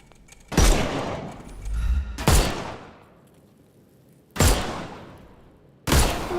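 Video game gunshots in Sherlock Holmes Chapter One: four loud, sharp blasts at irregular intervals, each trailing off in a brief echoing decay.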